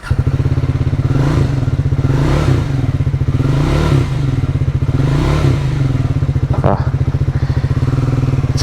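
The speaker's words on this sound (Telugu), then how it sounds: "ఇంజన్ రంబ్లింగ్ సౌండ్ వింటుంటే హాయ్ అనిపిస్తుంది చెవులకి" A Triumph motorcycle engine rumbles loudly and steadily up close, a continuous deep throb that holds for several seconds with a faint clatter near the end.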